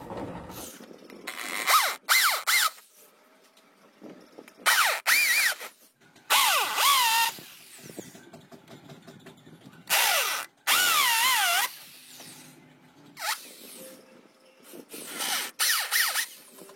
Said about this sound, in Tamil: மார்க்கிங்காக நம்ம ட்ரில் மிஷின் வச்சு ஹோல்ஸ்